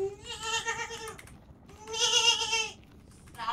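Sheep bleating in the video game Minecraft: two long, wavering, nasal bleats in a row with a short pause between, close and clear, then the start of a third call.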